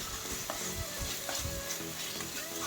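Onions with homemade ginger garlic paste frying in a pan, a busy sizzle with spatula scraping and stirring clatter in quick bursts, close and steady.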